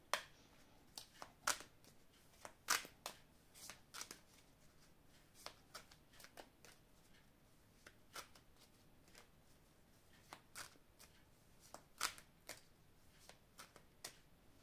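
Oracle cards of a love-themed deck being shuffled by hand, a fast run of crisp riffling snaps and soft flutters with no one speaking, close and fairly quiet.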